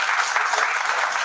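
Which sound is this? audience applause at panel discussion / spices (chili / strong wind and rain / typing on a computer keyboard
audience applause at panel discussion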